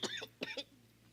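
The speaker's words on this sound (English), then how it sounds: "So the guy is coughing" A man coughs two or three times in quick succession, fairly close and moderately loud, with a quiet background hum between the bursts.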